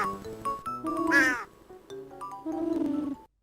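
A cartoon crow in an Urdu-language children's animation caws twice, harsh voiced calls spaced about a second apart, loud and close, with no talk.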